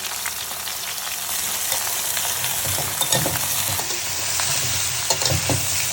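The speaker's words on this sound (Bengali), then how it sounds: "ভাজা হচ্ছে বন্ধুরা" Sliced ridge gourd frying in hot oil with a little turmeric powder, a steady close sizzle with scattered crackles and a few soft stirring knocks throughout, no voices.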